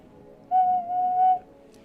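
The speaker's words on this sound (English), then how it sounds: "So this will be a low whistle." A low-pitched human whistle holds one steady tone for nearly a second, loud and close after a quiet start, alone without talk.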